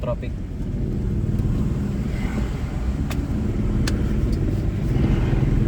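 Steady road traffic on a busy first day of school, a continuous low rumble of cars with a few passing vehicles, heard from nearby throughout.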